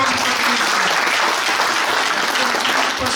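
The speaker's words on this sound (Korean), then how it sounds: "예, 힘찬 박수로 승인을 했으면 합니다." Union delegates at a regional branch assembly clap together to approve a motion, a dense, sustained round of applause filling the hall without pause.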